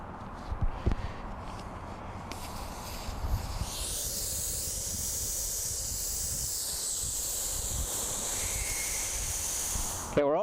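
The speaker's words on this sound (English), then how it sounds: "we're going to get all the air out of the tire so that we can remove the old tire" Air rushes out of a motorcycle tire valve on a BMW F800GS in a loud, steady hiss that starts after a few seconds of clicking and handling noises and continues for about seven seconds.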